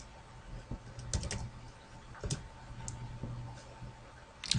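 Someone types on a computer keyboard, producing quiet, close, irregular key clicks in short clusters with pauses between them and no talk.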